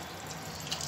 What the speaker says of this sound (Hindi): अब इसमें आप पानी डाल दीजिए